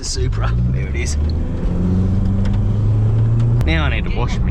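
A Toyota Supra drives past on a desert road, its engine rising and fading as a person talks over it.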